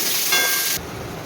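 Potatoes dropped into hot frying oil give a loud, steady hiss and crackle that stays strong, then drops to a softer sizzle partway through, with no voices.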